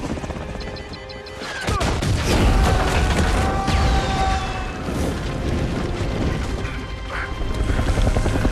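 A helicopter's rotor thrums loudly through a chaotic action-movie prison escape scene, mixed with crashes, booms and mechanical clatter; no voices.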